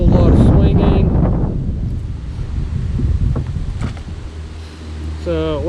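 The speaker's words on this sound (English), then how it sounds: "this wind is really picking up" Wind gusts buffeting the microphone out on a lake during bass fishing from a kayak, a loud low rumble that swells and eases throughout, with a brief voice at the start and small water or gear noises.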